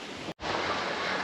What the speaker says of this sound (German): Und hier oben weht jetzt wieder Wind.